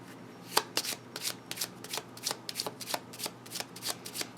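A deck of Lenormand cards is shuffled up close, with quick papery slaps repeating in a steady rhythm, about three or four per second.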